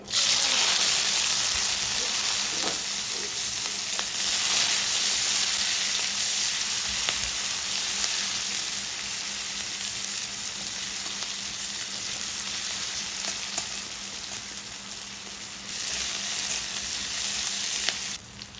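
Black cumin and onion hit hot oil for an egg curry, giving a loud, dense, continuous sizzle that holds steady throughout with a few faint stirring touches.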